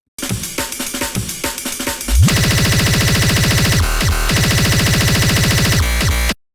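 Frantic, distorted electronic music: rapid pounding beats give way to a dense, harsh wall of buzzing synth and noise at extreme tempo, then cut off abruptly.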